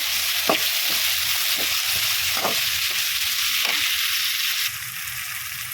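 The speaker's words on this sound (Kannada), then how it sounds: "ಈಗ ಟಮಾಟೊನ ಸ್ವಲ್ಪ ಫ್ರೈ ಆಗಲಿ" Tomatoes frying in a pan for uppittu, a loud steady sizzle up close with a handful of scraping stirs of a spatula, the hiss dropping slightly near the end.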